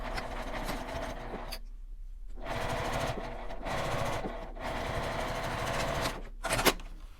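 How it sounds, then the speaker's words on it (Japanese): A sewing machine stitches matte laminate fabric for a tiny coin wallet, running in fast whirring bursts with short pauses between as it backstitches and continues the seam, close and steady. "折ったままミシンの押さえを下ろして針を落とします。 これで返し縫いして縫っていきます。"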